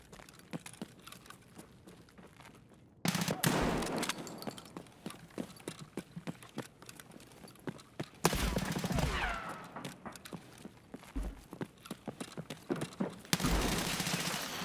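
Gunfire in the video game Escape from Tarkov on the Factory map, rapid bursts of close shots in several volleys with sharp clicks and movement between them.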